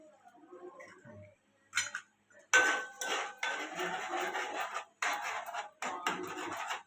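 Utensil scraping and clinking in a pan as an egg dish is mixed with chilli powder, several short bursts of metallic stirring with pauses between.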